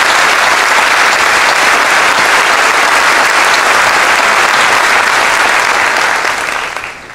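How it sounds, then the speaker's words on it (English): A high school commencement crowd breaks into loud, sustained applause, a dense roar of clapping hands that holds steady for about six seconds before tapering off at the end. "Let us all give a round of applause,"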